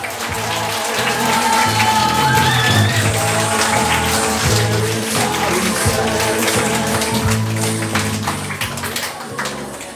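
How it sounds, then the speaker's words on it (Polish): Audience applause for a man named Krzysztof at a Women's Day gathering at a foundation, a steady dense patter of many hands sustained for several seconds with tonal background sound underneath. "brawa dla Krzysztofa"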